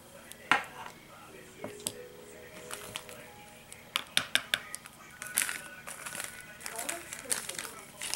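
Red glitter dots spooned into a glitter mix: light, scattered crinkles and gritty clicks with small scrapes, quiet and irregular, while a person talks throughout.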